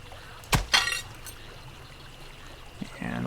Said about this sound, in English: we got some water cooking here